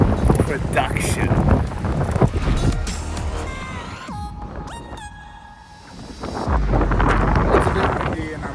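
Gusty wind buffets the microphone outdoors near water, loud rumbling bursts that ease off midway and surge back, mixed with a person talking and some brief tonal squeaks.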